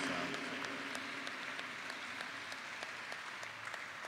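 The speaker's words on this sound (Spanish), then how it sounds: "Dele ese aplauso a nuestro Rey, aleluya." A church congregation applauds during worship, a faint, distant wash of clapping that carries on steadily for several seconds, with a few sharper individual claps standing out.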